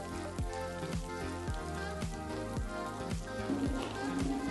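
Ginger paste hits fried potatoes in a hot pan and sizzles steadily and densely throughout, a close, even frying hiss with faint crackles.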